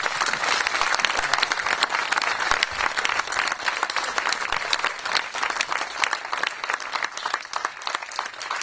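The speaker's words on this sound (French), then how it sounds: "on peut les applaudir parce que c'est des jeunes en or" Dense, steady applause from a concert audience, many hands clapping together at full strength from start to finish, loud and close with no voices rising above it.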